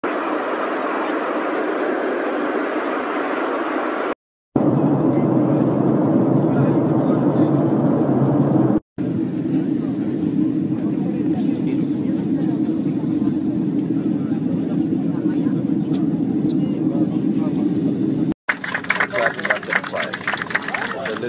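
Steady, loud airliner cabin roar during flight, a continuous broadband drone with a strong low hum, broken by a few brief cuts and softer, more rustly sound near the end.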